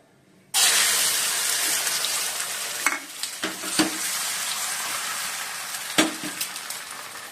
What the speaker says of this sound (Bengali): এই যে বন্ধুরা ডিম ভাজছি এখন।